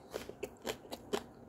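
Close, crisp crunching bites into chicken cake noodles, four or five quick crackly chews in an uneven rhythm with no talking.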